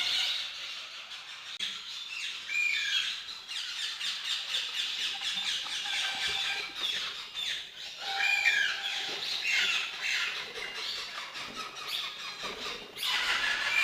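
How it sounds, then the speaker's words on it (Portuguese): Moustached parakeets at an exotic bird breeder's aviary give harsh, repeated squawks and shrill calls, fairly close and overlapping throughout. "Tem periquito mostacho."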